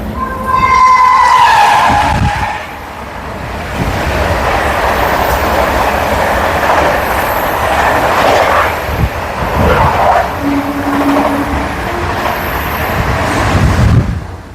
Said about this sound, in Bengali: ওপাশ থেকে আর একটা ট্রেন চলে গেল, পরপর 3টে ট্রেন